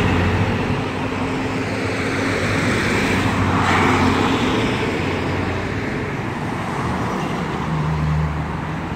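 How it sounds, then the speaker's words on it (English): Steady morning street traffic in Bogota: a continuous wash of car and bus engines and tire noise passes close by, with a brief louder swell midway and low engine hum throughout, and no voices. "A lot of morning traffic."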